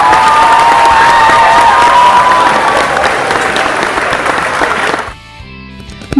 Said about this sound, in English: Let's have a really big round of applause for all of your hard work and dedication.